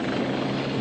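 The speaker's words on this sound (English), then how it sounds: "We'll get in the helicopter." Helicopter rotor and engine noise fill the moment, a loud, steady, close churning drone over Mallorca with no voices.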